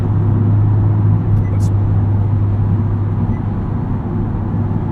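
A 2020 Honda Civic Type R cruises on a highway, heard from inside as a steady, loud low engine and road drone with constant tire rumble and no break.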